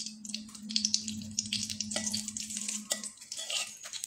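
Cardamom, cinnamon stick and a split bay leaf sizzle in smoking-hot ghee over high heat, a steady close crackle with light stirring scrapes throughout, no talking.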